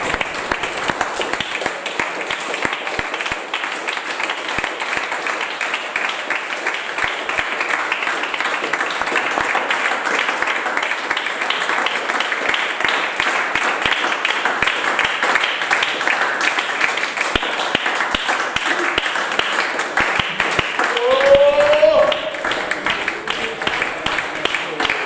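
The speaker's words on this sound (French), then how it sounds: "Est-ce qu'on peut acclamer le Seigneur?" A church congregation applauding and acclaiming the Lord, with steady sustained clapping and crowd noise lasting throughout, rising briefly near the end as voices cheer over it.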